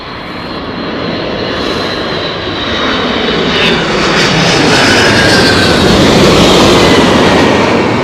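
Boeing 777 landing at Heathrow Airport in stormy conditions: a loud, roaring jet engine swell with heavy wind rush that builds steadily and stays close and dense for the whole stretch, with no talk.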